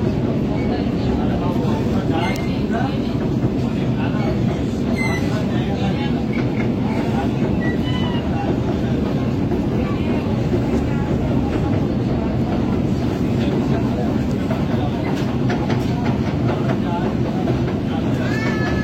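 A Kolkata Metro Blue Line train runs on the elevated track near Dum Dum, making a loud, steady rumble and rattle of wheels and carriages that continues without a break.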